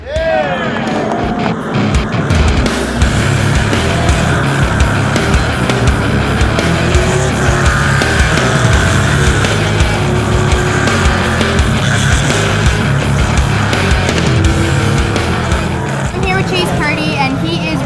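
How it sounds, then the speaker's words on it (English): Loud, continuous roar of many NASCAR K&N Pro Series East stock car engines starting and revving together at South Jersey Speed, a dense mechanical drone that holds steady throughout with faint voices mixed in. "Drivers, start your engines!"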